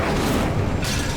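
An Incendio fire spell in Hogwarts Legacy bursts out as a short, loud whooshing blast of flame with a deep booming body and a second flare near the end, heard up close.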